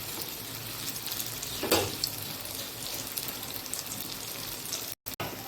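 Onion and raw banana fritters fry in oil over a high flame, giving a steady broadband hiss with a brief louder surge early on and a momentary dropout near the end; no one speaks.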